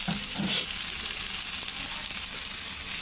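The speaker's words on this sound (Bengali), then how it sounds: "হালকা একটু জল দিলে মশলাটা ভালো করে কষানো হবে" Bengali chicken masala in a pan with a splash of water added, giving a dense, continuous close sizzle and hiss with light stirring, and no voices.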